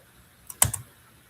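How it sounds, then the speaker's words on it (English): A brief, faint patter of a few keystrokes on a computer keyboard, a short cluster of clicks in an otherwise quiet room. "So let's type this."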